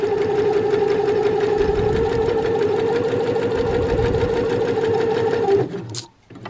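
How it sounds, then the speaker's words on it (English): Close, loud sewing machine runs continuously as fabric pieces are fed under the presser foot one after another, a steady whirring stitch that stops abruptly near the end, followed by a brief click. "you're simply going to slide your next piece under the presser foot and carry on sewing"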